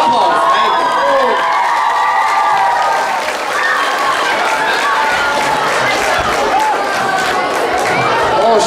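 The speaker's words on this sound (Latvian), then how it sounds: "Aplaus, meitene." A school aerobics day for fifth and sixth graders erupts in sustained applause and cheering, with a dense crowd clapping loudly alongside shouts and whistles from children throughout.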